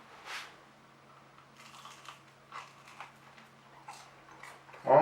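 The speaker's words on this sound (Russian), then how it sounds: "Сейчас услышите, как хрустит." Crispy pizza crust baked on a pizza tray crunches in a few faint, brittle crackles, ending in one louder, sharper crunch up close.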